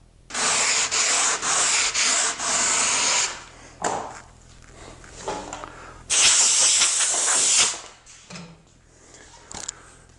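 Rough-sawn wood is sanded by hand with coarse 36 grit sandpaper, a close, harsh rasping in several quick back-and-forth bursts, then a longer stretch of strokes and a few scattered scrapes, with no talk.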